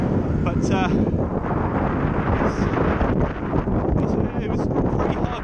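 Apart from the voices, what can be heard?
strong wind on microphone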